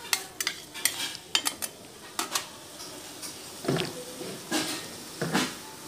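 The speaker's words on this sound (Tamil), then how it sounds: "மட்டன் பீஸ் ஆட் பண்ணி நல்லா கிளறி விடுங்க" Mutton pieces are stirred in a frying pan, with a spoon scraping and clinking against the pan in irregular bursts over a faint, quiet sizzle.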